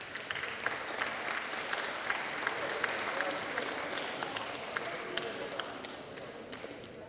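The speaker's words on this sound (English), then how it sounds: "getting a round of applause as she gets back to her feet" Crowd applause at a Mohawk vs Humber women's basketball game as an injured player gets back to her feet, steady sustained clapping filling the gym throughout with faint crowd murmur.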